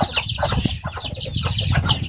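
Several hungry chickens clucking busily up close, a dense, continuous chatter of short clucks and squawks with a rooster-like call mixed in, no talk over it.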